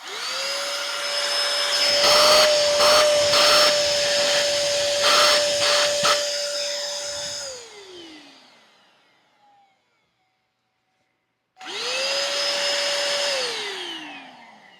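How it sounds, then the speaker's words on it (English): Ryobi 18 volt lithium handheld vacuum cleaner whining loudly with a steady high motor tone and brief bumps, spinning down to silence, then switched on again and quickly cut off. "For a little handheld vacuum cleaner, it kind of sucks."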